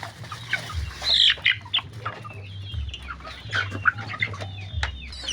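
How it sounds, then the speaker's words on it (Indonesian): Native Indonesian village chickens cluck and squawk close by in uneven bursts, with occasional sharper cries and a low background hum. "di sini ada ayam kampung asli ya"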